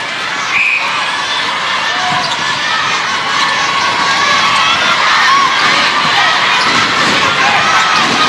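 Loud crowd roaring and cheering fills a netball final between Malaysia and Singapore, a dense steady wall of voices with scattered shouts across the whole stretch.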